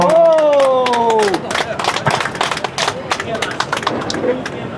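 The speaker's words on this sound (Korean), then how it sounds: "박수 한번 보내주세요." An audience claps for a singer at a live Korean music performance; a loud voice carries over the start, then steady rhythmic clapping and crowd murmur follow.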